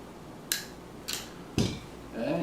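Small electrician's pliers snipping string after stringing chili peppers for drying, giving three short, crisp cuts about half a second apart, close and alone, followed by a faint rustle.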